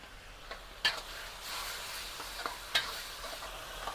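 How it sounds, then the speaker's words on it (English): Noodles stirred and cooked in a pan, with faint sizzling and a few sharp scraping clicks of a utensil against the pan. "Cooking noodle."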